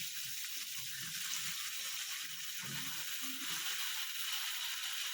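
Water poured into frying spices in a pan for a Bengali potato curry, a steady hissing wash of sizzle and splash with low clattering underneath, fairly faint.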